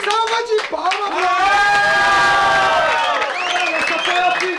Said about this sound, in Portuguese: Salva de palmas, bro!